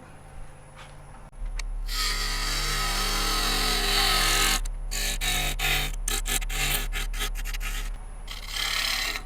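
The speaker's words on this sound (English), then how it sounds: "I'm also going to move to a smaller bowl gouge for this cut" A wood lathe spins a piece of American elm while a smaller bowl gouge makes a shaping cut, giving a loud, close, steady rasping scrape over the motor's low hum, broken by short pauses and repeated quick passes.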